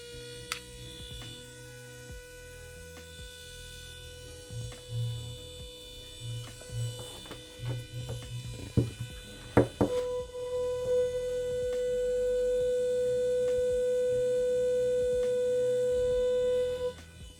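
A wireless rechargeable electric nail file runs with a thin, steady whine over low hum, faint at first, with a few clicks and knocks midway before the tone steadies and grows slightly louder.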